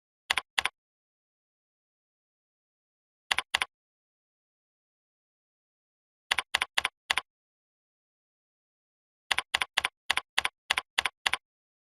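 Keys on a computer keyboard tapped in short bursts of two to eight quick strokes, separated by silent pauses, close and crisp with no voices.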